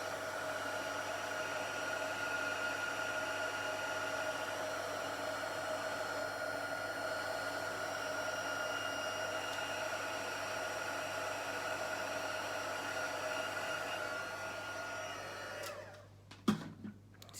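Heat tool blowing over white embossing powder on black cardstock, a steady, faint airy whir that runs continuously before cutting off near the end with a few soft knocks.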